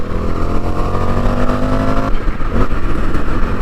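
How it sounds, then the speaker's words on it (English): An Indian FTR1200 motorcycle engine drops a gear, its loud, close revving note falling abruptly into a rougher, throatier burble. "Oh, that downshift."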